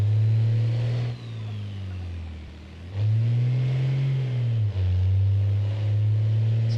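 A truck engine in the BeamNG driving game with an automatic gearbox, idling low and swelling into a few slow, heavy revs at low RPM, loud and close, with no voices over it.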